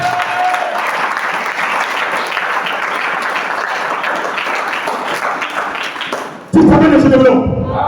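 Church congregation applauds loudly and continuously, a dense mass of clapping for most of the moment, and then a voice cuts in abruptly over a sudden louder section at the end.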